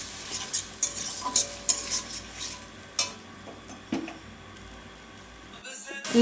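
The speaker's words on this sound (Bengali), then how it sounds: "তো এখন আলু টমেটো একসঙ্গে দিয়ে দেবো। তাও দিয়ে একটু কষিয়ে নেব মশলাটাকে" A spatula scrapes and clinks in a pan as potato and tomato are stir-fried with spices, with intermittent metallic taps over a low sizzle and a voice talking nearby.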